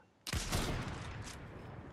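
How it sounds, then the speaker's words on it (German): Gunfire from a Fortnite match: a sudden loud burst of rapid shots begins after a brief quiet moment, then keeps rattling with a dense, reverberant tail through the rest of the moment. "Oh, ich hab daneben geschossen!"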